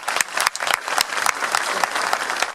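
Applause from an audience at a New Year's community council address on the Île de Ré, a dense burst of many hands clapping that swells quickly, stays strong and then fades.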